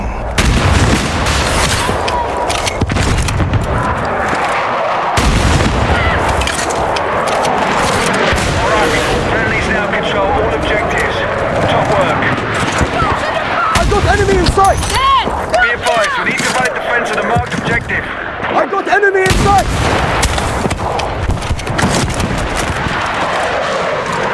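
Gunfire and explosions from the video game Battlefield 6 keep up a dense, loud barrage of shots and booms throughout, with excited players talking over it.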